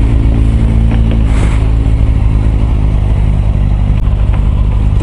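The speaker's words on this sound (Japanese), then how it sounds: "エンジンかけてるぞ。" A motorcycle engine runs just after refuelling, a loud, steady close-up rumble with a faint clattering texture and a brief rev, no voices present.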